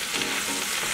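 Vegetables simmering in a pan with fresh parsley and granulated garlic, making a dense, continuous bubbling sizzle, close and steady throughout with no voices.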